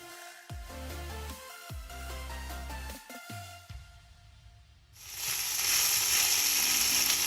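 Pork loin browning in a pan, with a few clunks and scraping pauses that give way to a loud, steady hiss of sizzling fat.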